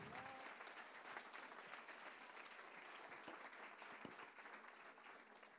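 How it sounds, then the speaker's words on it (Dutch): Sustained audience applause fills a symposium hall on plastics, a dense continuous clapping that stays even throughout and sounds fairly distant and soft. "applaus voor Maya, dankjewel Maya."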